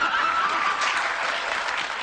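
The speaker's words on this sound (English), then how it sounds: "What the hell are you applauding about?" An audience applauding steadily, with dense continuous clapping throughout, a few chuckles mixed in, and no voice over it.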